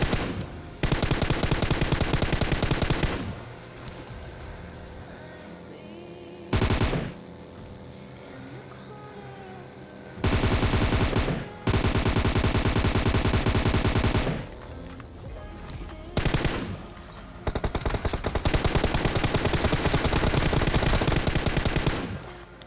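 Bursts of gunfire in a battle royale video game, with a car-shooting sequence against a buggy; long sustained volleys of rapid automatic fire alternate with short pauses, loud and close, with no talking.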